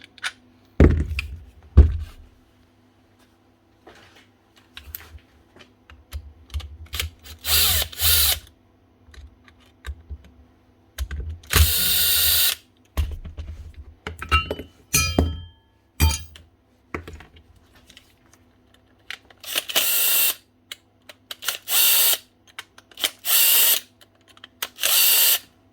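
An old Makita N910 angle grinder being repaired whines in repeated loud bursts, stopping and restarting several times with short silent gaps and clunks between runs.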